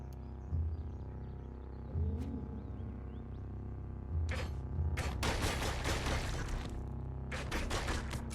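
Distant gunfire from gunners in the video game Caves of Qud: faint scattered shots and a couple of rattling bursts over a steady low hum and soft game ambience.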